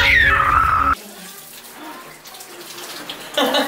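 Water runs from a home shower that has a broken water heater. A loud, steady gush at the start drops to a faint trickle and then surges again near the end, with no talking over it.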